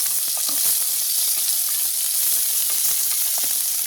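Onions and green chillies sautéing in oil in a pan, a loud, dense, continuous sizzle close by with faint scraping stirs underneath, no voices.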